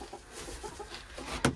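Chickens in a hobby farm coop give soft, scattered clucks at a moderate distance, and a sharper, louder squawk comes near the end.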